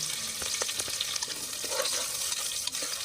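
Sliced big onions sautéing in a pan for mushroom biryani, a steady close sizzle with small crackles and occasional stirring scrapes, no talking.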